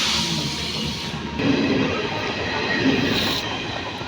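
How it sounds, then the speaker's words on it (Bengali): A late-running Sealdah–Jangipur passenger train pulling into the station, a steady loud rumble of wheels and rail noise with rising clatter and hiss throughout. "অবশেষে ট্রেন আসছে প্রায় দু ঘন্টা চল্লিশ মিনিট লেটে"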